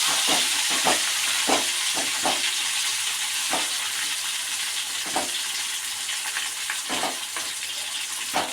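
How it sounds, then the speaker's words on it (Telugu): Home-grown raw banana slices fry in hot oil with a steady, close sizzling hiss, broken by occasional sharper bubbling bursts as the pieces cook. "చిప్స్ వేగుతున్నాయండి."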